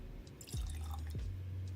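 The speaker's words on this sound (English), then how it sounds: "That was a very heavy pour." Russell's Reserve 13 Batch 6 bourbon, 123.8 proof, poured heavily into a glass, giving a quiet couple of glugging drips and a soft liquid trickle, close and faint.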